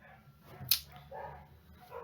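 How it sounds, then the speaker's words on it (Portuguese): A pet dog gives a single short bark-like yelp indoors, slightly distant, over a low steady room hum, with a few faint vocal murmurs around it. "O meu cachorro resolveu latir agora"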